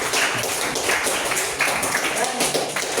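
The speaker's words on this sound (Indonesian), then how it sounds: "Bagus sekali, tepuk tangan." Classmates give a student a round of applause in a classroom lesson, dense steady clapping that carries close and fairly loud for a few seconds.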